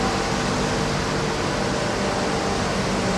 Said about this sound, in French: Donc là on a une machine qui tourne et qui mélange